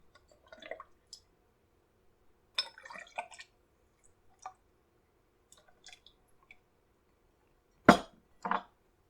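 Bloody Mary trickles and splashes in short bursts into glasses with ice, with a few light clinks of glass, ending in a louder splash of pouring.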